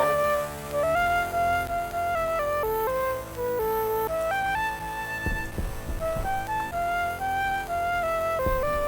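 Amiga-style 1980s chiptune music mix playing in the video game Stationeers, a bright stepping synth melody over bass and percussion hits, steady and fairly loud throughout.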